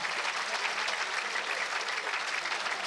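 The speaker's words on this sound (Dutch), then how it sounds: "terecht applaus" Spectators applaud steadily at a fierljeppen (Frisian canal pole-vaulting) competition, a dense, even wash of clapping from a sizable crowd that carries on throughout with no pause.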